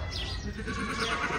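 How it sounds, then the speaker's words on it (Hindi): A male goat on a farm gives a short, hoarse bleat that is close and fairly loud against steady background noise. "जिसका है ना वो बकरा, वो भाई ने उसका नाम कोहिनूर रखे ले"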